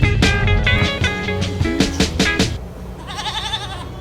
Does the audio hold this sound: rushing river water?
no